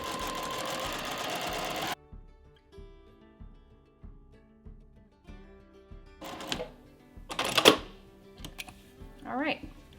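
A sewing machine stitches a decorative line on a linen bandana, a loud continuous whir at first giving way to slower, softer rhythmic stitching, with a few sharper bursts of sound later.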